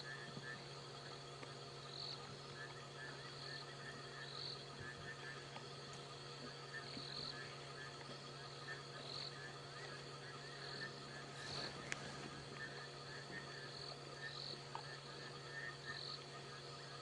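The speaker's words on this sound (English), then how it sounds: "We can hear frogs and a fiery-necked nightjar in the background." Frogs croak at night in the African bush, a faint continuous chorus with pulsing calls layered over steady insect trilling and a low hum.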